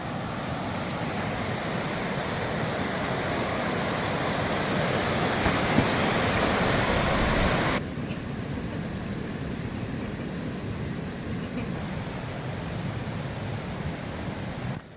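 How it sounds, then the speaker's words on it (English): A glacier-fed waterfall pours down from a mountain valley in the Rockies, a steady broadband rush of falling water heard alone throughout, slightly louder in the first half. "You can see a waterfall over there coming down from the valley."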